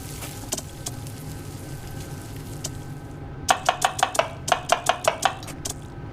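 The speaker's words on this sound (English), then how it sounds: "I'll cut these cheeses up" Cheese being chopped with a knife in a VRChat cooking game, a quick run of sharp, evenly spaced chops that starts after a quiet stretch of faint kitchen clatter and low background hum.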